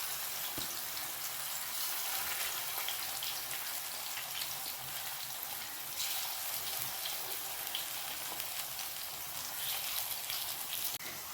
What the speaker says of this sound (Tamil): இந்த மசாலா தடவை வச்ச உருளைக்கிழங்க இந்த எண்ணெயில் போடுதேன்.